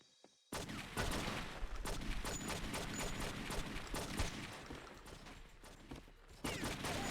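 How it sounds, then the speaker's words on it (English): Dense, rapid gunfire with shotgun blasts rattles in a True Crime: New York City shootout, starting abruptly and continuing loudly as a near-constant barrage of overlapping shots. "Oh my god, they had shotguns."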